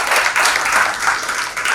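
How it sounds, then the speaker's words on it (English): Loud, steady applause from a large crowd, dense clapping filling the whole stretch without pause. "What Dr. Reddy and his granddaughter have done for Andhra and Telangana deserves another loud applause."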